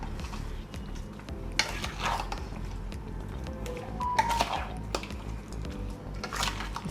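Fish pieces get mixed with salt and spice paste in a kadai, giving close wet squelching, soft scraping and occasional light metal clinks in an irregular rhythm.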